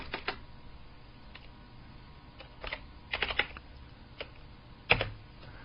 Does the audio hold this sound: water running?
no